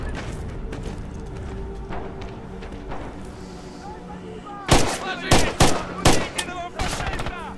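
Rifle and gunfire bursts from Red Orchestra 2 in a June 1941 battle, a series of sharp loud cracks clustered toward the end over a low rumbling background, with a voice talking faintly.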